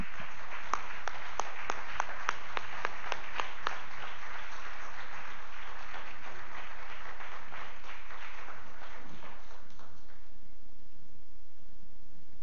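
A church congregation applauds together, a dense run of clapping that starts strong with sharp claps and then fades over several seconds into quieter room noise.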